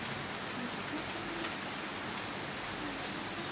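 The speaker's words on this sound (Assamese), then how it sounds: "বৰষুণ চাইছো ৰবা বৰষুণ চাইছো বল" Steady rain falls continuously on surfaces outside a home, a dense even hiss with scattered drops that holds at a constant loud level throughout, with no voices.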